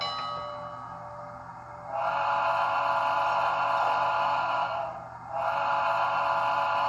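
A Bachmann GS4 Southern Pacific #4449 model locomotive's sound decoder blows its whistle as a steady, hissy chord in two long blasts, the first about three seconds and the second shorter after a brief break, over a faint background hum.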